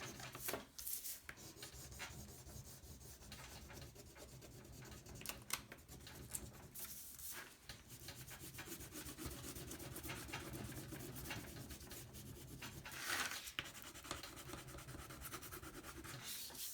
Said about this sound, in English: I'm going to color this kind of hard.